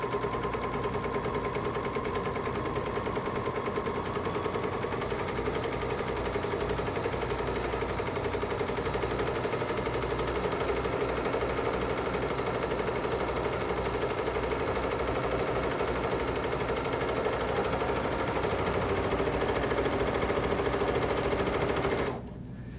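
A sewing machine stitches around a fluted fabric bowl in one continuous, fast, rattling whir. It runs loud and close without pause, then stops abruptly near the end.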